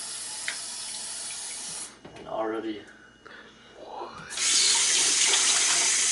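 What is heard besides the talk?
water running from a sink tap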